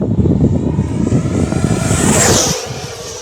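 FMS Avanti 90mm electric ducted-fan RC jet on 6S lipo power roaring past outdoors, a loud whooshing pass with a high whine that swells and then fades quickly.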